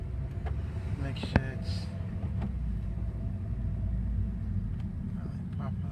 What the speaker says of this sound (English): I go for a quick drive around my neighborhood right quick